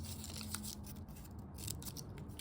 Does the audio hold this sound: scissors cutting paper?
yes